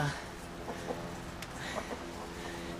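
Hens in a coop cluck softly and intermittently at close range, with occasional sharper calls, while a faint voice is heard in the background.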